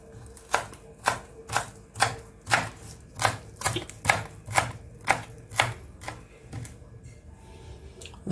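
Knife chopping fresh coriander leaves on a board, a steady run of about fifteen crisp, evenly spaced thuds, close and clear with no talking.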